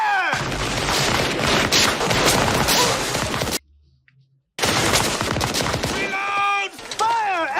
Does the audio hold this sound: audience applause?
no